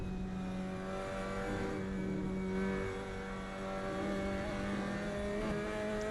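Mazda MX-5 Cup race cars lapping Brands Hatch, a steady loud engine drone with sustained revving that swells and fades slightly as the cars run on, heard alone without talk.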